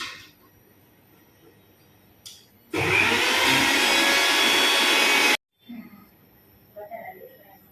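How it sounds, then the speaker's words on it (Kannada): An electric mixer grinder whirs loudly for a few seconds while grinding tomatoes into a fine paste, starting and stopping abruptly, with brief clatter and quiet talk before and after. "ಸೊ ಇದನ್ನ ಗ್ರೈಂಡ್ ಮಾಡಿ ಸೊ ಫೈನ್ ಪೇಸ್ಟ್ ಆಗಬೇಕಾ"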